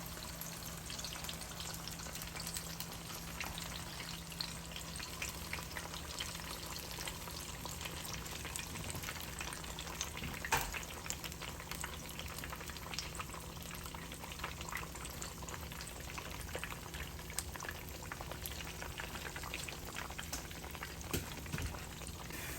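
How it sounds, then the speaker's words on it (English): Ripe plantains fry in hot oil with a steady, even sizzle and crackle that holds for the whole stretch, moderately quiet and close, with no talking. "Just be careful when you're dropping your plantains in the oil, because the oil can hurt you easily."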